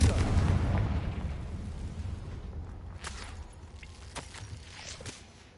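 A Confringo fire spell explodes in the Hogwarts Legacy game, a heavy boom that rolls and fades into crackling debris, followed by scattered pops and bursts as the rumble dies away.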